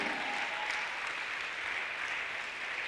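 A church congregation applauding during a sermon, a dense and steady wash of clapping from many hands that fills the room evenly, with no voices standing out.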